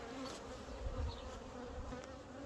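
Honeybees swarm around an opened multi-storey hive during a queen-cell check, a dense continuous buzz close to the microphone with no voices.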